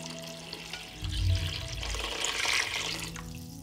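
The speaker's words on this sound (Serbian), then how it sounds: "Nalit ću vodu da prekrije sve sastojke." Water poured into a pot of goulash with peppers, tomatoes and garlic, a steady close rushing splash that swells midway and runs for several seconds with no talking.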